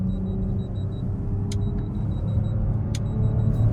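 Audi B9 RS5 with a Valvetronic Designs exhaust, valves open in loud mode, idling with a steady deep rumble, joined by two faint sharp clicks.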